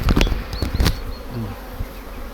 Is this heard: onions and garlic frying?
no